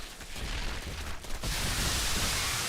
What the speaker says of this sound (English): We are seeing yet more Banelin explosions